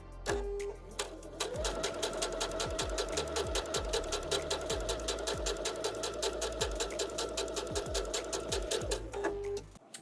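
A sewing machine stitches a fabric seam in one continuous fast run, its needle clattering in a rapid, even rhythm, close and clear, with no talk.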